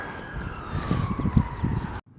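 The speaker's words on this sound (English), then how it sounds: "Sounds like the police, that one, to be fair." A police car siren passes along a busy street in Blackpool, its steady wail sounding fairly close over rumbling traffic before cutting off abruptly near the end.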